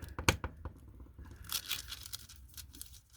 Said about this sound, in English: take a little bit of the unused foil and burnish that in